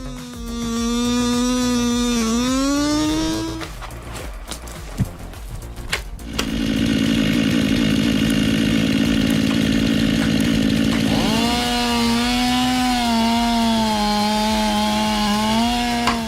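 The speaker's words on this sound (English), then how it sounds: "He was just minding his own business cutting down when his chainsaw hit something solid that snapped his chain." A chainsaw cutting down a tree revs loudly up close, its engine pitch rising and falling, breaking off into sharp clatter as the chain hits something solid and snaps, then the saw idles and revs on alone.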